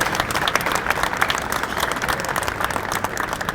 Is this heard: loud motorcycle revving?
no